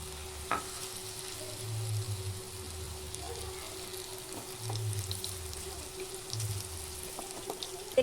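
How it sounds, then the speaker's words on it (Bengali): Raw banana kofta balls fry in hot oil in a kadai, giving a steady, soft sizzle with a low background rumble and a few small pops. No one speaks. "তেল গরম হয়ে গেছে, তো আমি এবার এই বলগুলো একে একে দিয়ে ভেজে নেব।"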